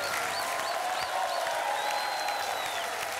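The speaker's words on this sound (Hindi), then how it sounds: "तालियां, कमल की तालियां" An audience applauds on the Hindi television game show 10 Ka Dum, giving steady, fairly faint clapping that continues evenly for a few seconds with a soft crowd murmur.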